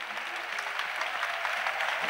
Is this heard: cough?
no